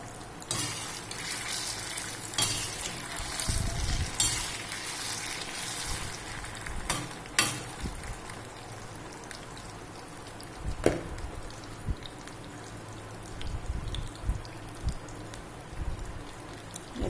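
Potatoes lightly frying in hot oil in a kadai for sabudana khichadi, a busy crackling sizzle with several louder bursts and scraping stirs, alone without talk.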